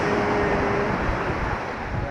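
Sea waves break on a Kerala beach in a steady, broad roar of surf with wind buffeting the microphone, continuous and fairly loud throughout, with no clear speech.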